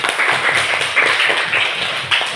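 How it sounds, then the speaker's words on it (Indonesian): A classroom of fourth-grade children claps hands together, loud, close and fairly rhythmic group clapping with bright slaps throughout, no talking over it. "Coba tepuk tangan dulu untuk semua."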